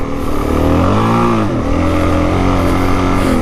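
Suzuki DRZ400 dirt bike ridden on a snowy trail, its single-cylinder engine loud and near, revving up and down in continuous rising and falling pitch sweeps with no talk.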